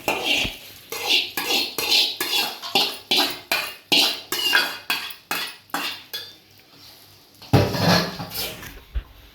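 A spoon scrapes and clinks steadily against a pot while rice is mixed with an asafoetida tempering and grated raw mango, a rhythmic series of close metallic strokes with a louder flurry near the end.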